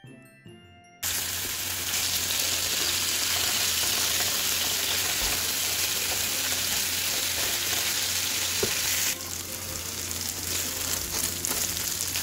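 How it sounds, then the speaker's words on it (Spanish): Diced chicken breast, half a large breast cut into small cubes and seasoned with garlic salt, frying in hot oil in a pan: a loud steady sizzle that bursts in after a brief quiet start and holds throughout. "Vamos a freír media pechuga grande, cortada en cuadritos"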